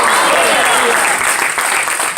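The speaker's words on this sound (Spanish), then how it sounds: "El fuerte ese aplauso del Señor" Church congregation applauding during a sermon, a dense, continuous roar of clapping mixed with crowd voices, loud and close throughout.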